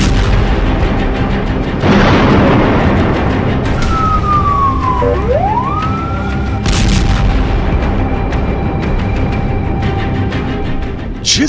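Israeli bombs explode in the streets of Gaza during an air bombardment: heavy, loud booms break out twice amid constant rumble, with a siren wailing and sweeping in pitch between them.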